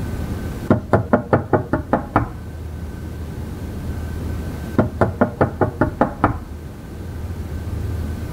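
Two rapid bursts of knuckle knocks on a door, about seven sharp raps each, separated by a few seconds of quiet room tone.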